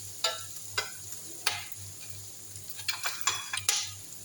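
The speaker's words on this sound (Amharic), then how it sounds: "ሩዙንም በቅቤ ስለምንጠብሰው ማለት ነው።" Rice toasts in butter in a cooking pot. A soft, quiet sizzle sits under sharp clinks and scrapes from stirring, which come at an irregular pace and bunch together toward the end.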